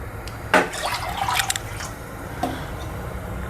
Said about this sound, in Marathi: त्याच कटोऱ्याने मी दोन कटोऱ्या पाणी घालणार आहे